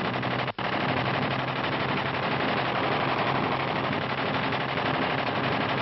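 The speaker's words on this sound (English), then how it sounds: "the German closes in for another assault, this time with cannon." Sustained rapid German aircraft cannon fire rattles without pause, a dense, continuous burst of gunfire that carries on throughout.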